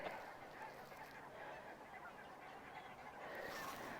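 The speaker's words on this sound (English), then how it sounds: "can you hear that? That's all the geese." A flock of geese that has just landed honks faintly in the distance, giving a soft, scattered chorus of calls over quiet outdoor ambience.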